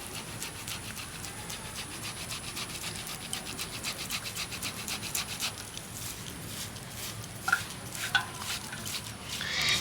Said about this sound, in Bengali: তো আলুটাকে এইভাবে ছোট গ্রেটারের সাহায্যে গ্রেট করে দেব যাতে খুব সুন্দরভাবে স্ম্যাশ হয়ে যায়।